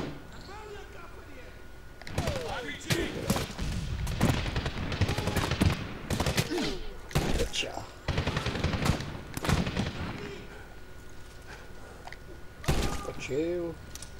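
Bursts of rapid gunfire and single shots ring out in Medal of Honor on PS3, scattered across the clip in clusters with brief lulls between, while someone talks over the action.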